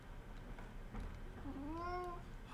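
A single clear, moderately loud meow from a cat rises and sustains for under a second in a quiet indoor room, with no talking.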